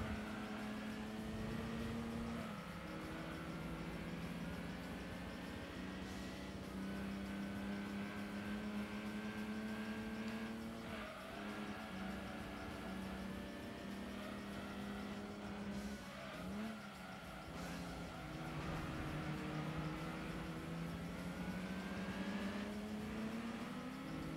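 Race cars in Gran Turismo 2 roar continuously, engines droning and shifting pitch as they rev up and down, with tire squeals and skids cutting in, loud and steady with no talk.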